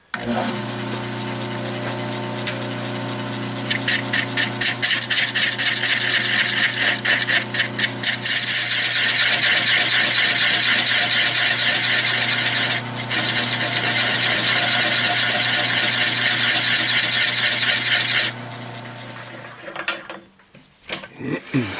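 Wood lathe turning the bottom off a thin redbud bowl: a steady, loud tool-on-wood rasp and scrape with rapid rhythmic chatter and a constant motor hum, continuing unbroken for about twenty seconds before the cutting stops.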